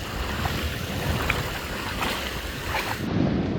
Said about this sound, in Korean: 오늘은 날이 좋아서 바닷가로 나왔습니다.